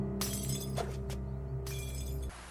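Glass shatters in a film scene, several sharp crashing bursts over a dense, loud soundtrack bed, the breaking layered with bright splintering debris before the sound cuts off abruptly.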